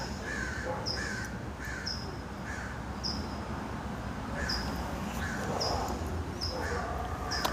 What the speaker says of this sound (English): We're hanging out with crows outside.